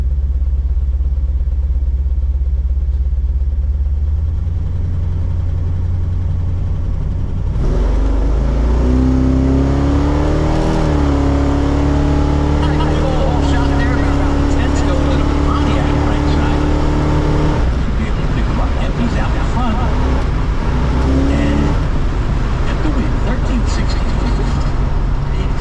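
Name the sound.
Pontiac and Dodge Durango racing at a track day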